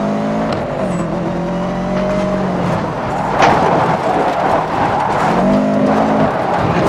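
Subaru Impreza driving in free roam in NFS Most Wanted, its engine droning steadily at close range with tonal revving that rises and shifts, plus a brief louder burst midway and faint tire noise.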